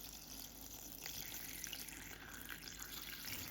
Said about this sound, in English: I'm just gonna add my deionized water to the herbs